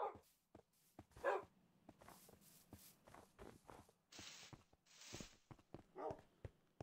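Dogs in Minecraft let out several short barks and yelps, spaced irregularly among soft footstep shuffles, fairly close but quiet, with no talking over them.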